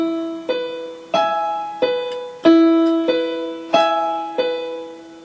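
Piano slowly plays a bar of a song with a held low E, seven unhurried struck notes each ringing out before the next; soft, intimate and unaccompanied.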